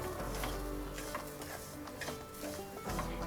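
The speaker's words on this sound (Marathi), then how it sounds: "आणि या रव्यासोबतच आपल्याला हे ओलं खोबरं छान खमंग भाजून घ्यायचे।" Semolina and grated fresh coconut roasting in a pan over a full flame, with steady scraping and stirring strokes and a soft sizzle running throughout, close up and fairly quiet.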